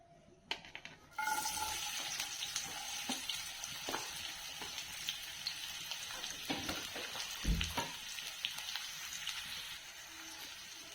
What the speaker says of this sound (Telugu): ఇప్పుడు సన్నగా తరుక్కున్న ఉల్లిపాయ ముక్కలు వేసుకుందాం